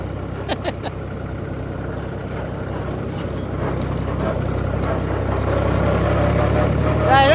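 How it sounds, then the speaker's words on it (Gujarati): An old tractor engine chugs steadily on a highway, a low throbbing drone that grows slightly louder and rougher as it runs along. "ટ્રેક્ટર તો આપણું રમ જાય છે"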